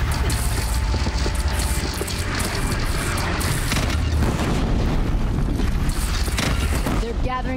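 Heavy cannon fire in the video game Horizon Zero Dawn forms a loud, continuous barrage of booming blasts and dense rumble throughout, with game voices faintly mixed underneath.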